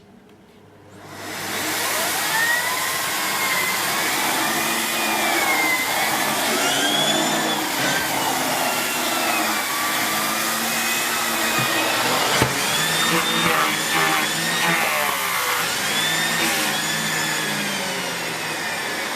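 A Miele S8730 HEPA cylinder vacuum cleaner switches on and runs on a kitchen lino floor with its suction turned down, giving a loud steady whine and roar that rises quickly and then holds.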